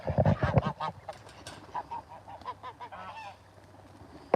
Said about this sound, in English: The new ducks don't go home yet.